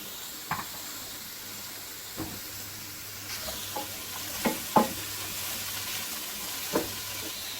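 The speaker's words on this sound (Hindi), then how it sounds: "इसे हम हल्का सा फ्राई करेंगे और उसके बाद हम इसके अंदर कैशू डालेंगे" Onions and cashews frying in cooking oil make a faint, steady sizzle with a few soft stirring clicks and scrapes scattered over it.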